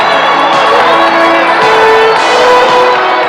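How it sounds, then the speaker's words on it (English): A basketball arena crowd roars and cheers after a record-breaking basket in an LSU game, a loud, dense, sustained wall of shouting and whooping with no break. "Crowd goes wild and they really deserve it."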